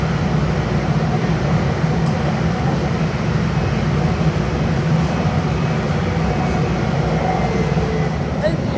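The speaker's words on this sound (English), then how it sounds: "there's air conditioning, even though these trains are from the 90s" Steady roar inside a 1990s Dallas metro train with air conditioning running, a constant broadband rumble and hum with no break, close and fairly loud.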